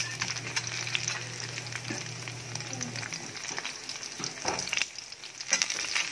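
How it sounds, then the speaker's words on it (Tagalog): Adobo sauce sautéing in the leftover oil used to fry bangus (milkfish), a steady soft sizzle with light stirring scrapes, moderately close and fairly quiet, no talking. "Magigisa na tayo ng ating sauce na adobo sa ating bangus."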